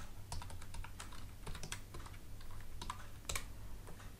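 Rapid keyboard typing as a PAN card number is entered into an online form, a steady patter of crisp, close key clicks with no voices.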